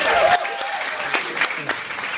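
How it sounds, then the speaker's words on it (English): A comedy club audience in Amsterdam applauds a comedian taking the stage, a dense, continuous wash of clapping from a full room with a few sharper claps close by. "Round of applause, everybody"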